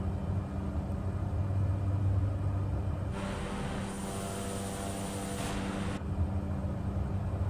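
A small aircraft in Microsoft Flight Simulator 2020 takes off, a steady loud engine drone that swells into a brighter, fuller roar partway through and then settles back.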